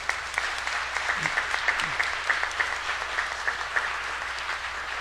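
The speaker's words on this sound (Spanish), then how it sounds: "Vamos a darles un caluroso aplauso de bienvenida." A congregation at Sunday Mass claps in warm welcome for visiting priests, a dense, even round of applause that holds steady throughout, with a few faint voices underneath.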